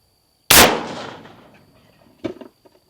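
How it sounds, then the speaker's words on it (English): A single loud, close .450 Bushmaster rifle shot hits a bulletproof vest with a sharp crack and a long decaying boom, followed about two seconds later by a brief softer clatter. "450 Bushmaster against our Bulletproof vest here."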